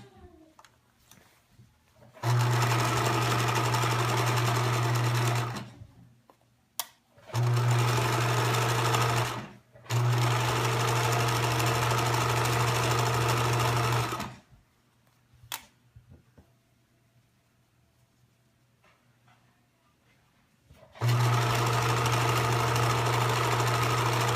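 A sewing machine stitches a drawstring bag in loud, steady runs of rapid humming clatter, stopping and restarting several times with quiet pauses and small handling clicks between bursts.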